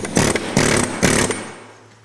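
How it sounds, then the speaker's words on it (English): A pneumatic air hammer works apart Willys Jeep Dana 25 front axle parts during a teardown, firing three loud, close, rattling bursts in quick succession before the sound trails off. "I have an air hammer because"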